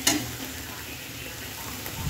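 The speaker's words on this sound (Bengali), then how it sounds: "একটা কড়াই তেল গরম করে পেঁয়াজ টমেটো দিয়ে ভালোভাবে মশলাটাকে কষিয়ে নিতে হবে" Onion, tomato and spice masala of cumin, coriander and turmeric frying in hot oil in a kadai, a steady close sizzle with a clink at the start and a faint scrape near the end.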